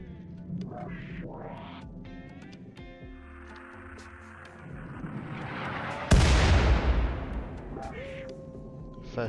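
Mortar fire in the Rimworld video game: a series of game explosion and launch thumps, with a loud, heavy blast near the end that decays slowly.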